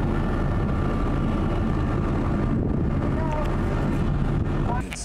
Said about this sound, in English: The engines are running, started right up